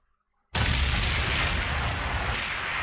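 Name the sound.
explosion sound effect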